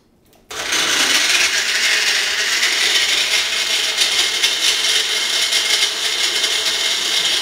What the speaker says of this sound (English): take your portable blender, take it into the garage, and make it without waking anyone up